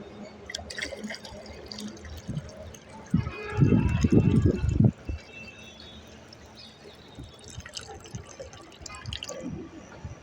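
Water pours and splashes into a container, a louder gushing stretch in the middle amid faint dripping and background noise.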